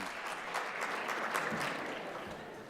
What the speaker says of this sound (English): please join me in welcoming Mr. Bullard to the stage with a warm round of applause